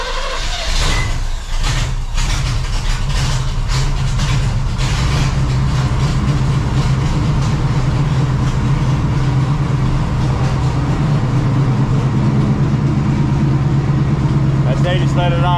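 A project car's engine runs at a steady idle right after starting, a loud continuous rumble with a strong low hum throughout, while people talk over it nearby.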